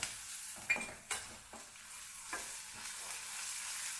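Garlic paste frying in hot oil in a pan while a Karnataka-style soaked chickpea palya is cooked, giving a steady bright sizzle with a few sharp stirring scrapes near the start, close and moderately loud, with no speech.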